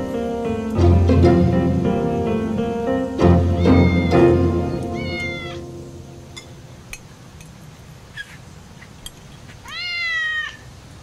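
A pet cat meows repeatedly and close by while rubbing against a person's leg, with several drawn-out meows early on, a pause, then a final rising meow.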